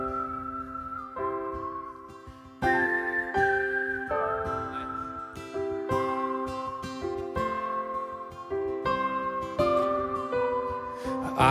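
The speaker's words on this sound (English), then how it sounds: "Whistle" Human whistling carries the melody over strummed acoustic guitar in a live acoustic song, the clear, sustained whistled notes prominent and close throughout.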